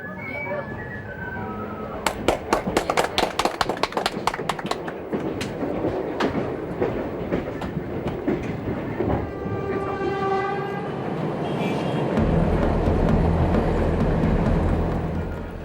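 A train rolls past nearby on a railway in China with a horn blast, then rapid clickety-clack of wheels on rails and a rising rumble, with faint voices under the noise.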